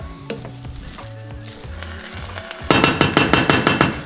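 Pumpkin coconut rice stirred in a hot pan on an electric burner: a soft sizzle with scraping, which gives way to a run of loud, rhythmic spoon clacks against the pan near the end. No one talks.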